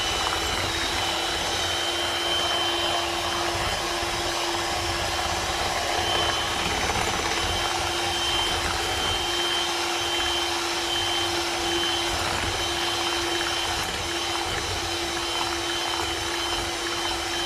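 A steady electric mixer beating egg whites and sugar into meringue whirs continuously at close range, a constant motor drone with a high whine holding throughout, no voices.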